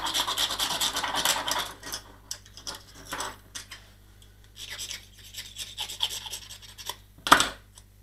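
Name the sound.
scraping paint off model plane nose with knife or sandpaper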